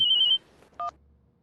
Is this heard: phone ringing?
yes